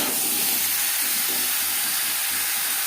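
Potato pieces frying lightly in hot oil with turmeric and salt in a pan, giving a steady, even sizzle and hiss throughout, close by and with no one talking.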